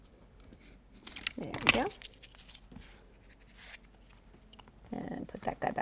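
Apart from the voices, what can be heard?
scissors trimming an animal nose mask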